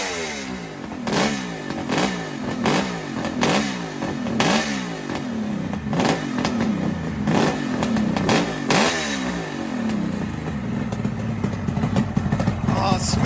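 Close, loud two-stroke motorcycle engine revved repeatedly, each throttle blip rising and falling in a steady rhythm before it settles into a rough, rattling idle.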